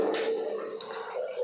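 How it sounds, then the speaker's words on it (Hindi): Water flows from a solar water heater into a geyser tank through household plumbing, a steady rushing hiss with a faint tonal hum, continuous and fairly close with no talking. "पानी आना चालू हो गया, ये डायरेक्ट सोलर से पानी आके गीजर में भरेगा"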